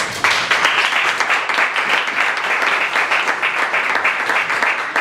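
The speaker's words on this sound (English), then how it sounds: "let's give him a big round of applause" An audience at a cannabis-in-athletics panel applauds a speaker, a dense, steady, loud burst of clapping from many hands that lasts throughout.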